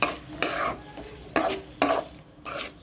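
Brain thoran being stirred as it fries in a pan, with a spoon scraping in four sharp sweeps over a soft, continuous sizzle, heard up close.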